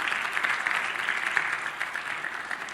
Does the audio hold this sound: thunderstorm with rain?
no